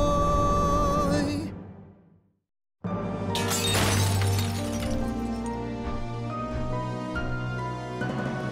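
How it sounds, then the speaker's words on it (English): In a cartoon, windows burst into a loud, prolonged shattering of glass that follows a brief silence. Shards crash and tinkle over a busy, music-filled background. "The glass just started shattering, the windows all came down"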